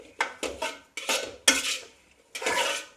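Roasted cabbage stirred into an egg mixture in a pan for chicken noodles, giving four separate bursts of utensil scraping and clanking against the pan, close and fairly loud, with short pauses between strokes.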